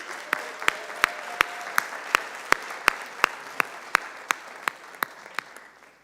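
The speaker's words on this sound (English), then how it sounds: "One more round of applause." Applause at a Fresno city council meeting, a smattering of clapping with distinct, evenly spaced loud claps standing out from a softer patter of the room, steady for several seconds.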